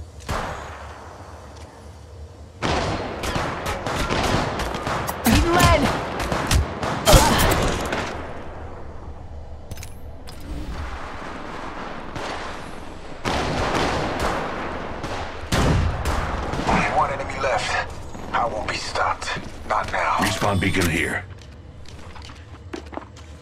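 Repeated bursts of gunfire in the Apex Legends Mobile video game, with rapid automatic volleys and footsteps coming in loud clusters between quieter stretches, while game voice lines play over the top.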